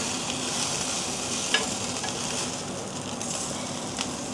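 Sausage frying in a hot pan gives a continuous close sizzle and crackle, with a few sharper pops and light stirring noises over the steady frying hiss.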